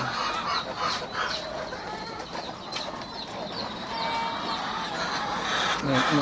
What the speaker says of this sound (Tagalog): So pag nagkokokok na ganyan, alam ko gusto din nilang mangitlog.